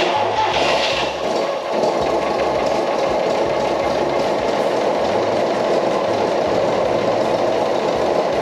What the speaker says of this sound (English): Don't want to rev it too much, just letting the engine settle in.